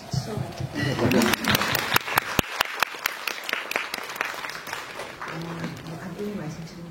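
Audience clapping at a film talk event, a brief burst of sharp claps rising over a murmur of voices and then trailing off as a speaker resumes talking.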